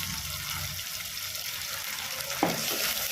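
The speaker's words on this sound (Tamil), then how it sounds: "தக்காளி போட்டு நல்லா வதக்கிக்கிறேன்." Tomatoes sauté in a pan for kara kulambu, giving a steady close sizzle and hiss with a brief stirring scrape near the end.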